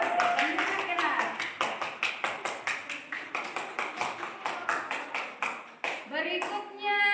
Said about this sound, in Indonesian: Dan tepuk tangan untuk Iren.